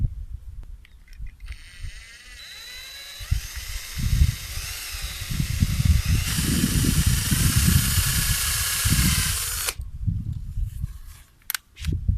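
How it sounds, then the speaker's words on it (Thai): A small power drill with a small bit whirs with a wavering pitch as it bites into a PVC ball valve, running continuously for several seconds before cutting off. "เราก็ใช้เป็นสว่านนะครับ สว่านดอก เล็กๆนะครับ เจาะรู เจาะรูเข้าไปก่อนนะครับ"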